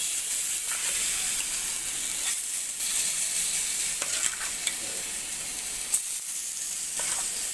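Tandoori momos of mixed pulses fry in a pan over medium heat with a steady, close sizzle and hiss, with light stirring and scraping clicks throughout.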